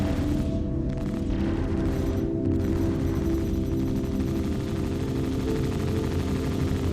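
Sustained weapons fire aboard an Idris frigate in Star Citizen, a dense continuous rattle of shots layered over a deep engine rumble, steady and loud throughout.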